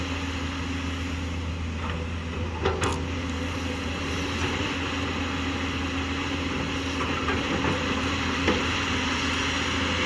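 A JCB JS205SC excavator's heavy diesel engine idles steadily and close by, a constant low rumble with a few faint clicks and knocks over about ten seconds.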